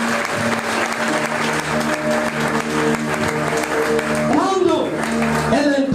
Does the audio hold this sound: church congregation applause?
yes